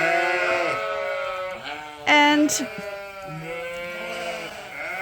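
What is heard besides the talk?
sheep bleating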